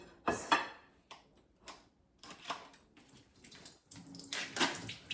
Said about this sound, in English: I just basically use my knife to open the box and then to drain the tofu